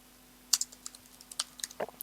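Quick clicks of a computer keyboard as a key combination is pressed, a short cluster of crisp, close taps with a few quieter keystrokes in between, alone without talk.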